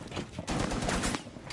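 Tachanka's mounted turret fires in Rainbow Six Siege, a quiet stream of rapid automatic shots that grows denser in the middle of the clip, with no voices.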